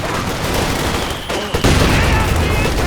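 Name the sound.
mortar shell landing, Company of Heroes 2 video game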